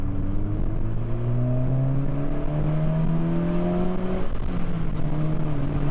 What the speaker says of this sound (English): I'll let the clutch out.